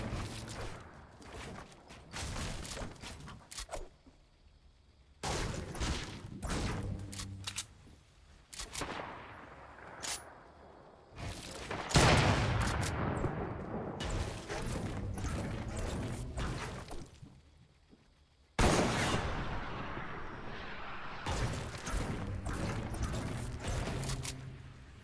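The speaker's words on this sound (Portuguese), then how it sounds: "Nossa, ele errou o tiro." Gunfire in the video game Fortnite, bursts of rapid shots and mechanical clatter in clusters separated by brief lulls, loud and close with no talk.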